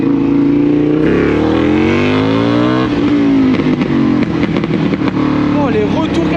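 A BMW GS 1250 motorcycle engine roars close up while riding, pitch climbing through the gears with crackling throttle changes and overrun pops, while a rider's voice talks over it.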